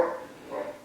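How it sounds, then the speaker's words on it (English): A couple of brief dog barks, somewhat distant and muffled, in a short quiet moment. "also pardon the dogs, they're barking"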